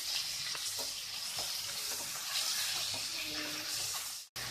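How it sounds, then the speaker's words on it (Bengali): A hilsa fish head fries in oil in a pan while making a Bengali chalkumra ghonto, giving a steady, close sizzle with occasional crackles and soft stirring scrapes, ending abruptly. "দিয়ে মেখে রাখা ইলিশ মাছের মাথাটি ভালোভাবে ভেজে নিব।"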